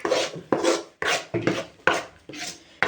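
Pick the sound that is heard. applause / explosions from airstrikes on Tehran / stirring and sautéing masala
stirring and sautéing masala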